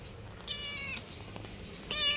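A pet cat meows a few times, short nasal calls with clear harmonics near the start and again at the end, close by over quiet room noise.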